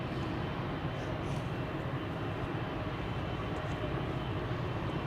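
A KLM jet bound for Bologna at Schiphol, a steady, broad engine rumble held at a constant level for several seconds, moderately distant and unbroken, with no voices on top.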